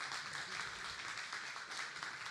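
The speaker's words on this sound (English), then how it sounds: "Give them a round of applause." A conference audience applauds as panelists come onto the stage at a session on cross-platform development, giving steady, even clapping that carries on for the whole stretch at moderate volume with no voices over it.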